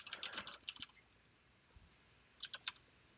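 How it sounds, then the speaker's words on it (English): Quick taps on a computer keyboard, with presses of the space bar, heard as a soft close flurry of clicks, a pause with one faint tap, then a few more keystrokes. "Keep pushing the space bar to keep going."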